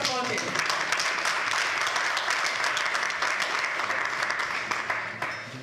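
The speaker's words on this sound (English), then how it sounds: "yes please, let's applaud it." Loud, sustained applause from a crowd, dense clapping throughout that begins to fade in the final second.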